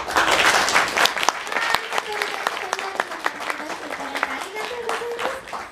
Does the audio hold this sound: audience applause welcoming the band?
yes